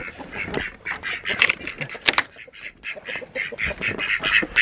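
Morning clucking from backyard chickens in a coop, a busy run of repeated nasal squawks and calls at close range, several birds overlapping in uneven bursts.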